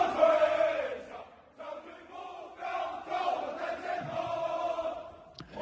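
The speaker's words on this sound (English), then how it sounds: "They're cheering it." A crowd cheers and chants loudly at a military parade, heard through a playback with a tinny, midrange tone in rising and falling surges of massed voices.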